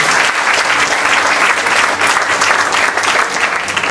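A seminar audience breaks into loud, sustained applause at a business-building motivational event, dense clapping from a large crowd filling the hall evenly from start to finish.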